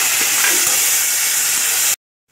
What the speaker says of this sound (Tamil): இப்போ நீங்கள் வந்து நாட்டு தக்காளி ஆட் பண்ணி வதக்கிக்கோங்க